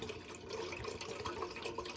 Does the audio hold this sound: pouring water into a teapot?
yes